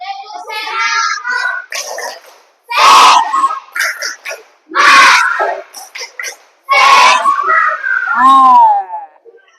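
Schoolchildren chant and shout in the 'tepuk semangat' routine, loud group shouts in bursts separated by short pauses, with rhythmic claps mixed in, close and energetic.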